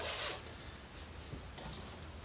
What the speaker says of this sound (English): zip that up so I don't have it in the way